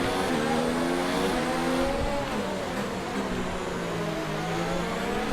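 Race car engine from the F1 2019 video game at the Singapore circuit, a loud continuous high-pitched whine that rises and dips steadily as the car accelerates and brakes, with no voice over it.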